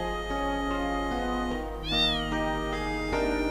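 A cat meows once in a video game, a clear drawn-out call rising and falling over a steady backdrop of game music with no talk.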